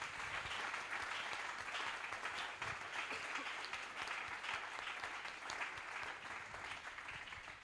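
A church congregation at the closing of an evangelical week applauds, sustained dense clapping from many hands filling the room at moderate level throughout, easing slightly at the end.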